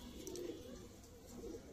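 A domestic pigeon that has been brooding on eggs coos in a steady, low, rolling murmur that carries through the whole stretch at moderate, fairly even loudness.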